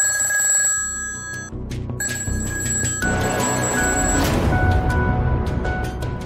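A telephone bell rings in short bursts with a pause between them, bright and clear, then gives way to a louder, rougher mix of noise.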